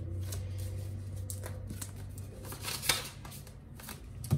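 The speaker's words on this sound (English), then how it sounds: "I was shuffling and I was told this was sitting on top of the other half of the deck" A deck of playing cards being shuffled, giving soft riffling and rustling bursts over a low steady hum, with a sharper snap near the middle and no voices.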